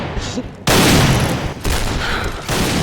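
Loud bursts of gunfire in a Thai first-person shooter game, abrupt full-band blasts recurring every second or so under excited shouting from players.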